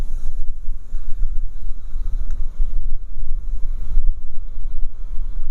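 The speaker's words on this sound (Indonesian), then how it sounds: "Ini suara airnya kencang banget dari sini nih." Loud, steady rushing of water flowing through an overgrown irrigation channel beside rice fields, a dense continuous roar heard close by with no talking.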